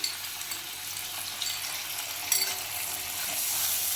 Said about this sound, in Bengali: এর ফেটানো টক দইটা এতে আমি দিয়ে দেবো।